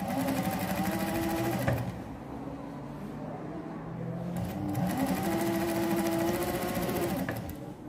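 A sewing machine stitches bias binding onto the edge of fabric, running in steady bursts of rapid mechanical whirring with a short pause between runs, close and loud with no talk.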